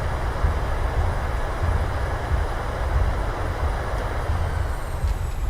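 A Boeing 737-800 rolling out after landing in Microsoft Flight Simulator, thrust reversers giving a steady loud broadband engine roar with deep rumble, continuous and unbroken, with no talk.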